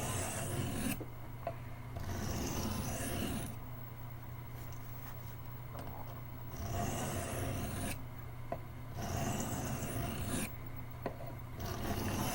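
A Camillus electrician's knife is drawn across a sharpening stone in long, even strokes. The close, steady rasping repeats every couple of seconds with short gaps between passes.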